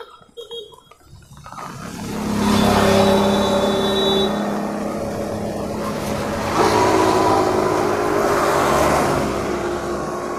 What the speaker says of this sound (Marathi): ही जी रिक्षा जात आहे ती हरणे बंदराकडील रस्ता जाण्याची ही वाट आहे.